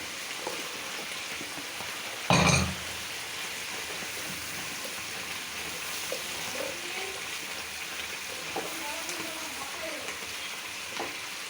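Vegetables frying with spices in a pan, a steady close sizzle throughout with one sharp clatter early on and no talk.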